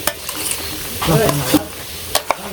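A utensil scrapes and stirs spiced chicken pieces frying in a pan over a soft sizzle, with a few sharp clacks against the pan.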